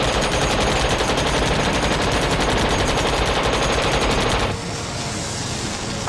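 Sustained, loud automatic machine-gun fire and rapid gunshots in a battle scene from a war film, a dense continuous barrage that drops to a lower, rougher volley near the end.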